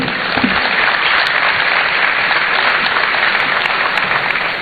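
Audience applause after a speech at a student entrepreneurship and enterprise development programme launch, a loud, even wash of many hands clapping throughout, sustained without a break.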